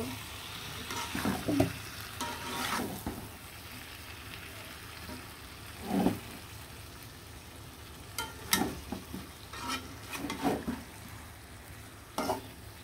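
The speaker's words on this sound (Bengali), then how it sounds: "খুব সুন্দরভাবে নাড়াচাড়া দিয়ে মশলার সাথে একদম সুন্দর ভাবে কিন্তু মিশিয়ে নিতে হবে" Fried chicken pieces stirred with spices in a pan, soft sizzling under intermittent scraping and clanking of a spoon against the pan, close and unhurried with no talk.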